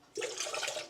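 A short pour of water splashes steadily into a bowl of baklava dough mixture, starting abruptly and running for under a second.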